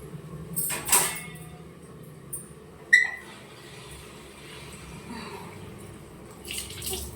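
Coriander leaves rinsed under running water in a home kitchen: soft intermittent splashing and trickling with a few sharper clatters, fairly quiet and close, no speech.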